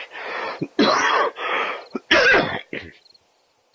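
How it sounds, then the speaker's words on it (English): Several harsh, raspy coughs in a row from a person with acid reflux (GERD), loud and close, with brief pauses between bursts before trailing off into silence. "Pardon my cough."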